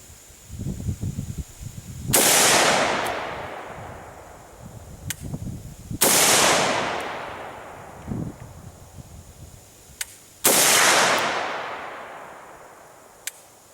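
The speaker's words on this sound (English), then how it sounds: "Fire a few shots here and see what kind of velocities we get out of this barrel." A Zastava M92 PAP AK-47 pistol fires Golden Tiger FMJ rounds outdoors on a humid day: three loud, sharp single shots several seconds apart, each followed by a long fading echo, with quieter handling noise between them.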